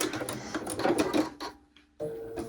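A sewing machine stitches a raw-edge leather wallet in rapid running bursts, stopping briefly before starting up again, close and clear.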